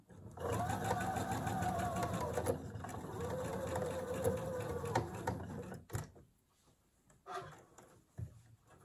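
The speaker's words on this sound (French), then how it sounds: "j'arrive au trait, donc j'arrête ma piqûre avant la fin" A sewing machine runs fast and steady, close up, its rapid needle chatter stitching a blouse seam for several seconds before stopping, followed by a few short bursts and handling noises.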